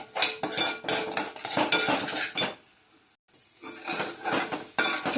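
A spoon scrapes and clinks rapidly around a cooking pot as cumin powder and garam masala are mixed in for a Maharashtrian bhaji curry, loud rhythmic stirring with a brief pause partway through and a faint sizzle underneath.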